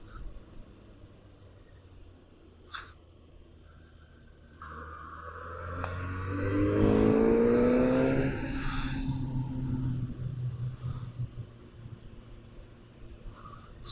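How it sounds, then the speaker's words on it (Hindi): A Kawasaki ZX-6R on a stock exhaust revs up sharply from a quiet idle to a loud, rising wail, then settles back to a softer running drone on an open road. "स्टॉक एग्जॉस्ट इतना प्यारा आवाज करने लगता है"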